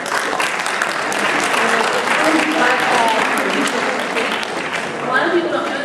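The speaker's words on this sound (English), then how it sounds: "If you see that you can clap there." Audience applauding steadily throughout at a teen driving awareness program, dense loud clapping from a crowd with no break.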